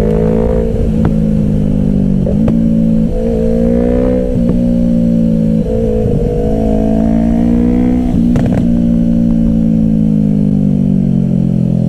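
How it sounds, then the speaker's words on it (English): An Aston Martin car drives on a road at Cheddar Gorge, its loud engine droning and rising and falling as it shifts through gears, heard up close without any talk. "he's test riding an Aston Martin right now"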